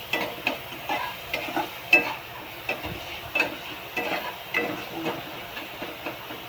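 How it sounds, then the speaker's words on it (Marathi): Onion and tomato sautéing in a pan with salt, being stirred for a soybean curry: steady close sizzle with regular soft scraping strokes of the spoon every half second or so, no voices. "कांदा टोमॅटो चांगला परतून घेऊया."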